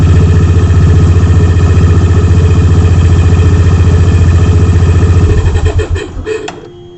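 A Honda H'ness CB350 motorcycle engine idles with a loud, steady thumping pulse, then sputters and dies away near the end as the bank angle tilt sensor cuts it.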